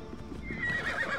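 A horse in the ancient Greek setting of the video game Assassin's Creed Odyssey whinnies and clops along, a short, close burst of neighing over hoofbeats and game ambience.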